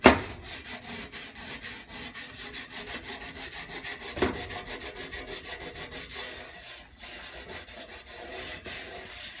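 A wet sponge scrubs cleaning paste across a stovetop in quick, even back-and-forth strokes. The rasping rubs repeat rhythmically and stay close and steady, with one sharper knock partway through.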